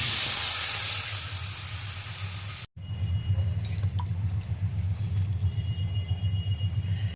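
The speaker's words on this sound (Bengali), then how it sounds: "এবার আমি আলু পটলটা দিয়ে দেবো। আমি জল দিয়ে দেবো।" Potatoes and pointed gourd hit hot spiced oil in a bright, loud hissing sizzle that fades, then after a brief break water is added and the pan settles into a lower bubbling, crackling simmer.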